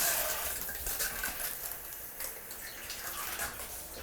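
A wet sponge scrubbing shower booth glass, with water trickling and splashing in close, continuous rubbing strokes and small bursts of spray.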